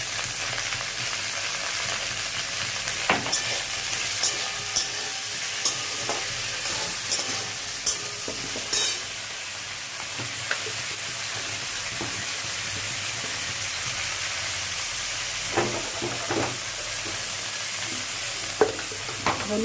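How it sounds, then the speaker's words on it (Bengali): Okra sizzles and spits in a hot pan in a continuous crackling hiss, with occasional sharp pops and a few utensil knocks, close and fairly loud. "ঢেঁড়স একটু দিয়ে দেখলে ছিটে ছিটি গায়ে লাগে"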